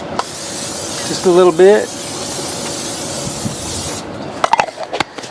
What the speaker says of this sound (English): I'm gonna spray this with a little bit of cooking spray